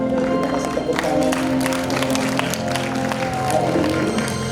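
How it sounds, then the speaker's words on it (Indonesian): Applause from a church congregation at an onsite senior community worship service, continuous clapping mixed with crowd murmur and some voices, steady and fairly loud throughout. "Terima kasih tepuk tangan"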